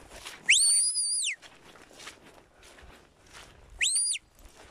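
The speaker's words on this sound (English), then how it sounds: "That long whistle is getting" A shepherd's two long, clear rising-and-falling whistles to a Border Collie sheepdog, loud and close, separated by a few seconds of quiet shuffling outdoors on a farm.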